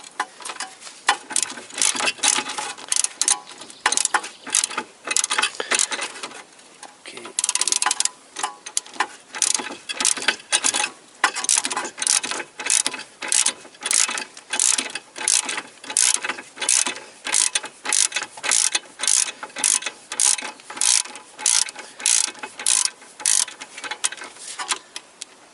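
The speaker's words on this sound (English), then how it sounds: "I can change to this fast wrench." A fast ratchet wrench turns a bolt during driveshaft removal on a Toyota Corolla, giving rapid bursts of loud, close metallic clicking that repeat in quick strokes with brief pauses throughout.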